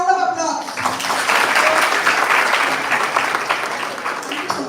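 An audience at a personalised medicine conference breaks into applause after a correct answer, clapping rising over a fading voice and continuing at moderate volume for several seconds.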